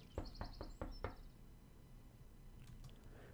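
Five quick knocks on a door in the visual novel Everlasting Summer, evenly spaced and fairly loud, followed by quiet room ambience and a few faint clicks.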